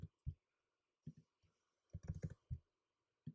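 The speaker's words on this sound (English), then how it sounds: "Now let's type in the rest of our numbers." Numbers are typed on a computer keyboard as sparse, quiet key clicks, single taps and short clusters separated by pauses.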